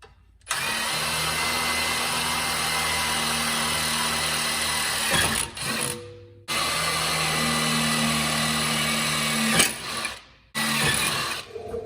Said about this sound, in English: We'll start off with drilling some pilot holes.